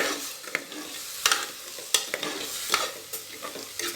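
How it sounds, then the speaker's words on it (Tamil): Soaked rice being stirred and sautéed in a pan for egg biryani, with a steady frying sizzle broken by repeated sharp scrapes and clatters of a spoon at irregular intervals, close and moderately loud, with no talking. "போட்டுட்டு நல்லா வதக்கணுங்க."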